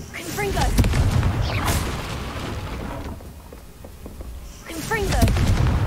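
Confringo explosion spells burst in the Hogwarts Legacy video game, with heavy booming blasts at the start and again near the end and rumbling debris between, while a player talks over the action.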